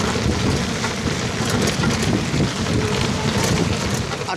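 Heavy rain pours down on a street in Dhaka, a dense, steady roar of water with gusty wind noise buffeting the microphone throughout, loud and close with no talking.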